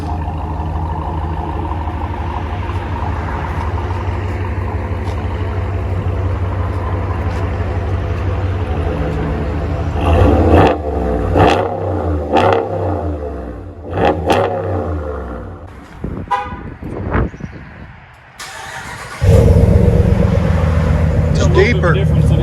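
A Dodge Ram with a 5.7L HEMI and a Corsa exhaust idles with a deep rumble, then revs in several short bursts of throttle, followed by a loud sustained roar near the end, with people talking over it.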